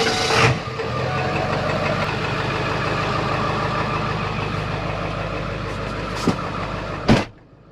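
2002 Ford 7.3 diesel pickup truck cranks briefly, fires up and settles into a steady, loud diesel idle with a knocking clatter, ending with a couple of sharp clunks near the close.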